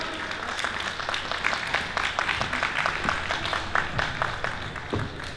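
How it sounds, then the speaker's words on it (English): An audience applauding DC mayoral candidate James Butler at the ARC in Washington DC, a dense, steady patter of many hands clapping at moderate volume that carries through the whole stretch. "Let's give him another round of applause."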